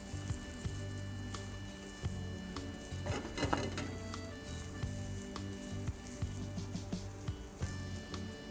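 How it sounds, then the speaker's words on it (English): Mushrooms fry in leftover fat in a pan for chicken Marsala, giving a continuous close sizzle with a louder burst of crackling midway and scattered pan clatter and stirring sounds. "So we get our mushrooms and we're gonna cook those off in that same fat."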